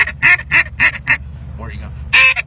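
A duck call blown in short, squealing quacks, five rapid bursts then a pause and another loud burst, close and sharp, with a brief soft voice between.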